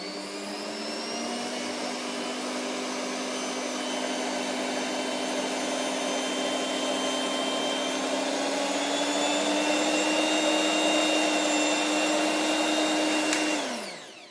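A Zelmer ZHM 2650 hand mixer runs with a steady, loud electric whine that holds for over ten seconds, then winds down abruptly at the end.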